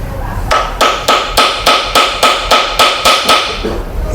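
Hammer taps ring out while an automatic transmission from a Nissan Grand Livina is dismantled during an overhaul: about a dozen sharp metallic strikes in a steady, even rhythm, close and loud, with no talking.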